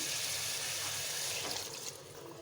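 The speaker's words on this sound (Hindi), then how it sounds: "अब इसमें मैं थोड़ा पानी डाल के इसको पकाऊंगी।" Water poured into liver curry (kaleji saalan) cooking in its spice paste makes a steady, close splashing and hissing pour that eases off slightly toward the end.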